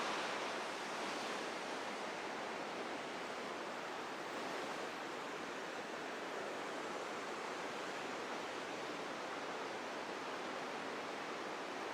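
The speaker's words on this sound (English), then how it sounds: "Might get hard to hear me over the sound of the water here." Mesa Falls in Idaho roars from close up at an observation deck, a loud, unbroken wash of falling water filling everything without pause.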